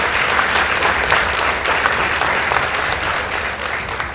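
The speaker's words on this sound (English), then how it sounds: "Please give them a round of applause." A school debate audience claps for a girls' team, a dense steady round of applause sustained throughout at full volume.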